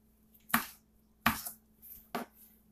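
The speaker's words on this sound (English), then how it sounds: "now we're going to cut up this tomato" Knife chopping through a tomato on a cutting board: three distinct sharp chops spaced about three-quarters of a second apart, close and crisp, with no talking.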